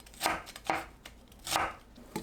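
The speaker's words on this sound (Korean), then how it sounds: "파를 3cm에서 4cm 길이로 채 썰어주세요." Close, soft knife strokes julienne green onions into 3 to 4 cm lengths on a board, four quick cuts with short pauses between them.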